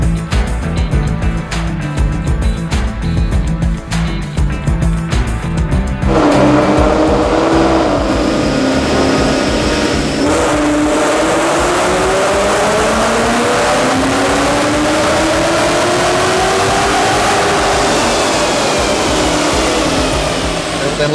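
A Pony Wars project car's engine revs hard on a dyno during a tuning pull, roaring loud and steady with rising pitch sweeps as the RPM climbs, continuous throughout.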